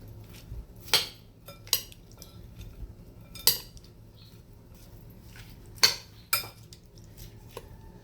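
A utensil clinks against a bowl while mixing food, probably a lato seaweed dish, with a few sharp scattered knocks over quiet background and no talking.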